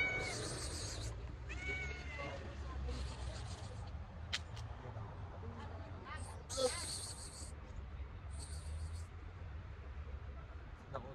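A cat meows in Georgia, its brief high calls rising over steady background noise while people talk nearby.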